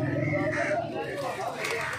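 Pigeons coo softly at Tollinton Market, a pigeon market, half buried under close, continuous talk from people nearby.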